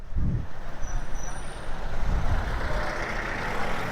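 A truck rumbles close by in road traffic, its low engine drone steady throughout, with a sharp air-brake hiss near the start and the wash of other vehicles around it; no one speaks.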